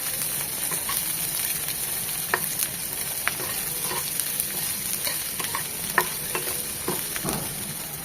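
Onion, garlic and dried chillies fry in mustard oil in a pan, a steady bright sizzle with occasional clicks and scrapes of stirring, close and continuous, with no voices.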